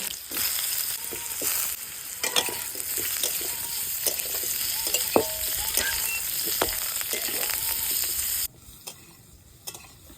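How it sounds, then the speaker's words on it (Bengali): Boiled jackfruit frying in mustard oil in a wok, a loud continuous sizzle with repeated stirring scrapes and clinks, close up, no voices. "এরপর কড়াইয়ে দিয়ে দেব সর্ষের তেল আর সেদ্ধ করা কাঁঠাল"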